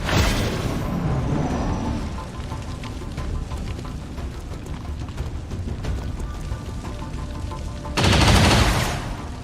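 Gunfire in the video game XCOM 2: sustained rapid volleys and bursts over a dense rumbling battle bed, with a louder blast near the end.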